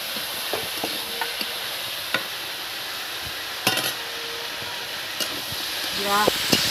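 Turmeric and chopped ginger being stirred in a pan for a spicy potato-cauliflower samosa filling, giving a steady soft sizzle with scattered scraping clicks of the spoon and a faint voice.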